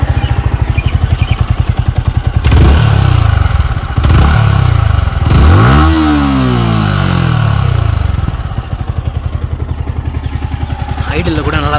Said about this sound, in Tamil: ஸோ வண்டி ரிவ் பண்ணிடுவோம்.